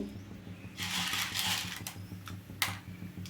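Mustard seeds dropped into heated oil for tempering a bottle gourd dal crackle and sizzle in dense bursts, with a few sharp pops near the end, close and fairly loud.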